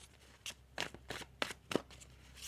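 Tarot cards being shuffled in a few quick riffling bursts, soft papery flutters spaced about half a second apart and heard close up against a quiet room.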